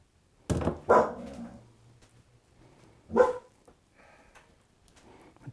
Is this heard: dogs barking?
yes